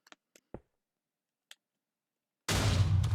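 TNT blows up in a video game: a few faint clicks and ticks, then a sudden loud, roaring blast that keeps rumbling to the end, without any talking.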